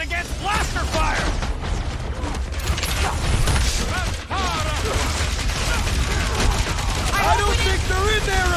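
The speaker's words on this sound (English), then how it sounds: "Who starts a gunfight near a reactor core?" Blaster fire crackles in a dense, nonstop gunfight near a reactor core in Marvel's Guardians of the Galaxy, with rapid shots layered over mechanical clatter and voices talking throughout.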